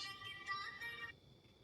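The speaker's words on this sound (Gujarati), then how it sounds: "એટલે અજયભાઈ ફોન આવ્યો" A mobile phone ringtone plays in a soft, faint tonal pattern for about a second before it cuts off and the line goes quiet.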